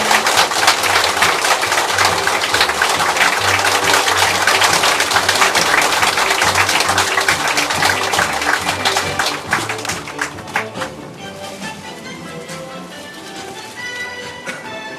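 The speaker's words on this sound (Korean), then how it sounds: "여러분 꽃다발 증정식이 있을 때 큰 박수로 축하와 환영의 박수 부탁드립니다" Loud, dense applause from an audience at a Korean appointment ceremony for technical and research advisors, during a flower bouquet presentation, steady for about ten seconds before thinning to scattered claps and quieter room sound.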